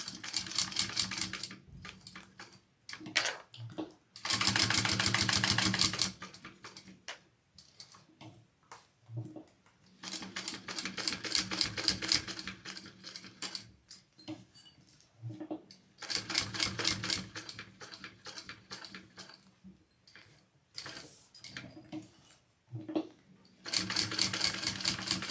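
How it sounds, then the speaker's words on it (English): A sewing machine stitches webbing straps for a sling, running in loud, fast rhythmic bursts of needle clatter that start and stop repeatedly, with quieter ticking and handling between runs. "I'm just going to go and sew"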